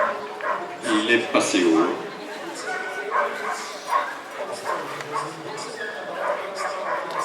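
Several dogs bark, yip and whimper in quick bursts during a French working-dog trial, mixed with a voice and general outdoor noise.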